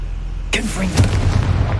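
A Confringo blasting spell bursts in Hogwarts Legacy, one sudden loud explosive boom with a crackling tail and low rumble, close and heavy, rising over a dull ambient bed.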